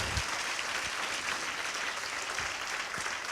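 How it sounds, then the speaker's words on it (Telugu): Sustained loud applause from a church congregation, a thick continuous wash of many hands clapping at steady volume with a few low thumps underneath and no speech. "చప్పట్లు కొడదామా గట్టిగా?"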